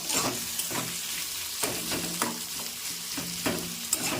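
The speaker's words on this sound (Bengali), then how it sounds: "তেল গরম হয়ে গেছে, তেলের মধ্যে দিয়ে দেবো পেঁয়াজ।" Onions sizzle in hot oil in a pan, with a steady fry under repeated scraping strokes of a spoon stirring them, close and moderately loud with no talk.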